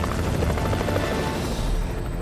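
A rescue helicopter overhead makes a steady, loud rotor drone that fills the whole stretch without a break.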